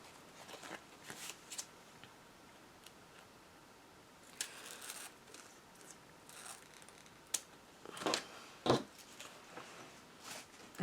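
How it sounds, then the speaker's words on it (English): A few quiet, sharp snips of scissors cutting ribbon on a card, with rustling handling noises, scattered over several seconds in a calm indoor setting. "I'm just going to take my scissors and cut the ribbon off even with the card"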